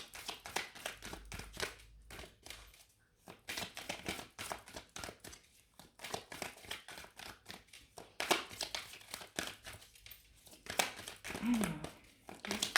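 Tarot cards are shuffled, handled and drawn close up, in rapid, papery crinkles and slaps that come in irregular bursts with brief pauses.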